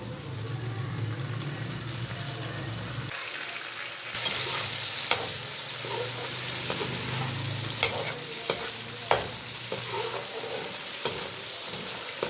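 Cumin seeds and black pepper frying in oil for potato pulao, a continuous close sizzle that jumps louder partway through, with scattered stirring clicks and scrapes.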